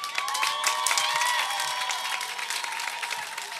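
A festival crowd at a live Cameroonian comedy show applauds and cheers, with dense steady clapping and scattered whoops filling the space at moderate distance.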